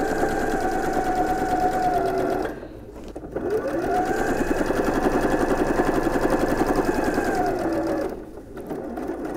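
A sewing machine stitches an apron seam in a fast, even mechanical whir, close and steady, pausing briefly twice before running on.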